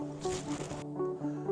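A zipper runs along the pocket of a turkey hunting vest, giving two quick rasping pulls, close up and fairly quiet, alone without speech.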